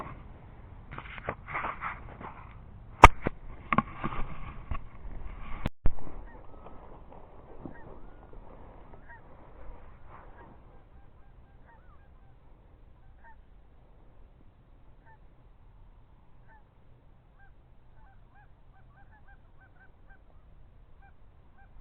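Several geese honk in a brief burst near the start, with a couple of sharp loud knocks among the calls, then fade to faint, quiet outdoor ambience for the remaining time.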